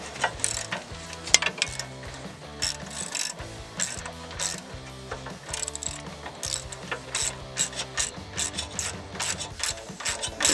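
Hand ratchet tightens a Toyota Tacoma front CV axle shaft, repeated close clicking pawl strokes in steady bursts throughout, with faint metallic knocks between them.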